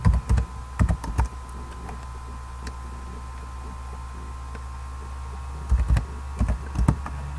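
Python code is typed on a computer keyboard in clustered bursts of crisp, close key clicks at the start and end, with quieter sparse taps in between and no talk.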